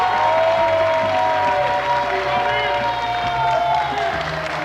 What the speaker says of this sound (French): On l'applaudit, Emmanuel, s'il vous plaît.